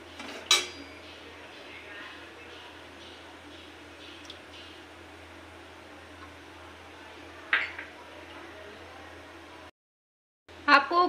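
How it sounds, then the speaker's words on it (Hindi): Semolina being stirred and roasted with ghee in a kadai over a medium flame: a quiet, steady background with a few sharp metallic clinks of the spatula against the pan, spaced several seconds apart. "आपको कंटिन्यू इसको चलाते रहना है, छोड़ना नहीं है बिल्कुल भी, नहीं तो सूजी जो है वो जल जाएगी।"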